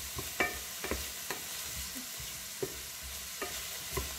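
Ingredients sear in a hot pan with a steady, close frying hiss, punctuated by about eight sharp utensil clacks at irregular intervals as they are stirred.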